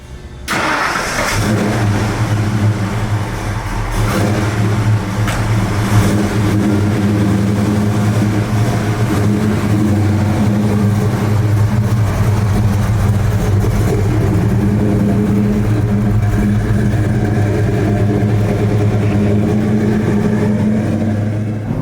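A 1966 Ford Mustang Fastback restomod with a 347 stroker engine starts and runs steadily with a deep rumbling drone, heard close from inside the car as it drives.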